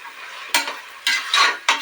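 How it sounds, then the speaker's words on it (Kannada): Spatula scraping and stirring a green palav mixture of spinach, fenugreek and coriander in a pan, three short bursts of scraping with soft sizzling between, close and distinct. "ಇದಕ್ಕೊಂದು ಮಿಕ್ಸ್ ಕೊಡೋಣ."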